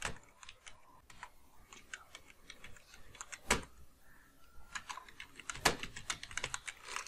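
Typing on a computer keyboard, irregular light key clicks with a few louder taps, close and quiet with no speech.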